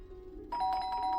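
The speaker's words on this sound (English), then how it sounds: "We have a doorbell?" A house doorbell chimes with a clear ding-dong tone, ringing out suddenly after a quiet moment and holding steady, fairly faint and alone.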